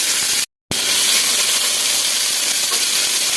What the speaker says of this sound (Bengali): এবারে আমি এইভাবে আদা বাটাটা একটু ভেজে নেব